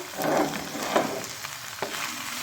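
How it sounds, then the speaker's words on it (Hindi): Finely chopped capsicum and tomato sauté with chicken in a pan, giving a close, steady sizzle with a few louder pops and stirring scrapes, and no talking. "हमारी सब्जियां चिकन के साथ सौते हो चुकी हैं बहुत अच्छे से।"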